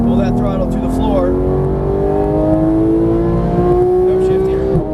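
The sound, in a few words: Porsche GT3 engine accelerating at full throttle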